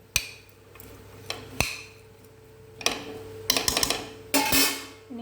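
A spoon scrapes and clinks against a pot on a stove while food is stirred, with scattered sharp metallic knocks and taps at irregular intervals, fairly close, with no talking.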